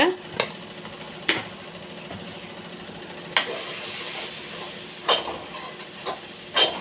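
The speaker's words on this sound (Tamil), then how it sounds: "எண்ணெயிலே நல்லா செவந்து வரட்டும் மிளகாத்தூள்" Homemade kuzhambu chili powder frying in hot oil gives a soft, steady sizzle, broken by a few sharp scrapes and clicks of stirring at irregular intervals.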